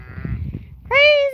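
Goats on a Scottish farm give a loud, drawn-out bleat that follows a person's brief talk and rustling, the animal sounding close.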